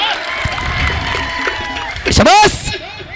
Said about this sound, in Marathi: टाळ्या करा पुन्हा एकदा.